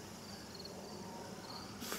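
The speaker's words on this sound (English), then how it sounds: "Even the crickets are at peace." Crickets chirping outside a tiny house on wheels on a homestead, a faint, thin, intermittent trill in a quiet outdoor setting, ending with a brief soft rustle.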